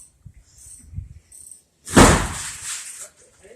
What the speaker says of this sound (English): The door's shut.